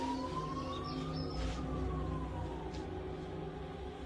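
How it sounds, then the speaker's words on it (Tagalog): An ambulance siren, a faint, distant wailing tone that rises and falls slowly over a low background hum, with no one speaking. "Ayun, tama-tama may ambulansya."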